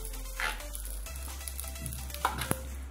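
Hot tadka being stirred into raw mango and onion chutney, a soft sizzle with faint scraping and clinks of the spoon, quiet and close, no talking.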